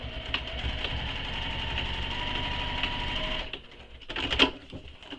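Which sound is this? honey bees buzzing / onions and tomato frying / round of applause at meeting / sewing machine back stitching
sewing machine back stitching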